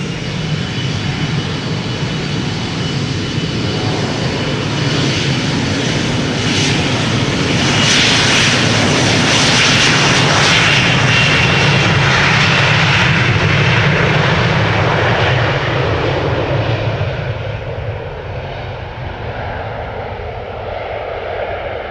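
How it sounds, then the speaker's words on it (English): A KLM Embraer 175 regional jet roars on departure from Amsterdam Schiphol, bound for Hamburg; a loud, continuous broadband engine rush swells to a peak midway and then slowly fades as the aircraft pulls away. "cheater in cheaters lane, Embraer 175, destination Hamburg, KLM flight 1753"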